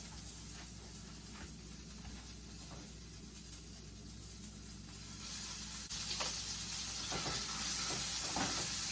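Potatoes sizzle steadily in canola oil in a pan, a constant soft frying hiss that swells a little louder toward the end.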